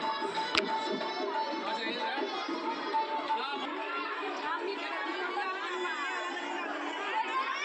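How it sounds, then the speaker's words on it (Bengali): A dense crowd of children mills around a chowmein stall at a primary school food festival, producing a steady, loud wash of overlapping chatter and shouts without pause. "ছোটো ছোটো ছেলেমেয়েরা একটু চাউমিন খেতে বেশি ভালোবাসে তার জন্য এত ভিড় হয়েছে চাউমিন দোকানে"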